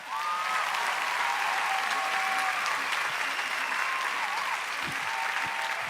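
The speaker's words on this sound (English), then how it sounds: "Where's my wee round of applause there? I've got to get a bigger one than that." Steady, full applause from a crowd at a Burns supper fills the space without a break, loud and sustained for several seconds.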